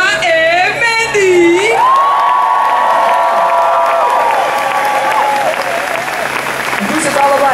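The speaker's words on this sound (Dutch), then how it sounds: "Mag ik een heel hard applaus voor Sherina en Mandy." A large crowd at a celebration for the Dutch women's national football team in Park Lepelenburg, Utrecht, cheers loudly with applause, whoops and shouts, while an amplified voice speaks over the din.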